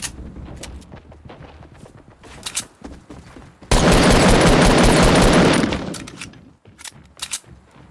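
Gunfire in Fortnite, a loud sustained burst of rapid automatic shots lasting about two seconds, preceded and followed by scattered quieter single shots and game noises.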